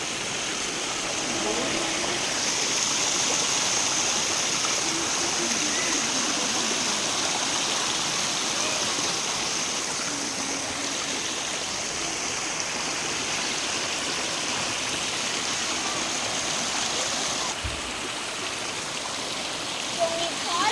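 A waterfall at a resort in Yercaud, Tamil Nadu, gives off a constant rushing roar that fills the whole clip evenly. Voices can be heard faintly under the water.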